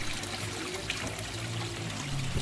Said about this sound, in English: all the water needs to pass first via this trickle filter, and then it returns to the pond